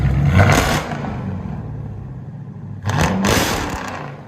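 A supercharged 6.4-liter V8 engine in a Chrysler 300C with headers and Flowmaster Outlaw exhausts revs hard twice, roaring loudly up close with a brief quieter rumble between the two bursts.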